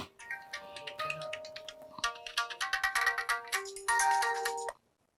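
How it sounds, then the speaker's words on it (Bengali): A melodic phone ringtone plays clearly, its tones repeating in quick succession before stopping abruptly. "আবার কেরা ফোন দিল?"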